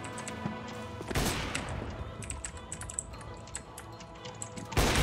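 Sharp gunshots ring out in Counter-Strike: Global Offensive, a couple of loud cracks at the start and end with scattered clicks and smaller impacts between, heard close and fairly quiet overall.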